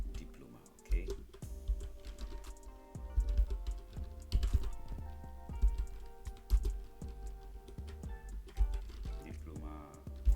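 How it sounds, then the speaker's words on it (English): Keys tapped on a computer keyboard in irregular clusters, quiet clicks under a low background hum and faint tonal sounds, with no clear talk over them. "Now go ahead and type my diploma."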